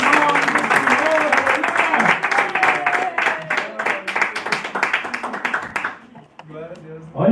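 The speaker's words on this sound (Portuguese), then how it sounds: "As palmas que agradecem o nome do Senhor." Church congregation clapping during a sermon, a loud burst of crowd applause with rhythmic hand claps and voices mixed in, fading out near the end before a brief final swell.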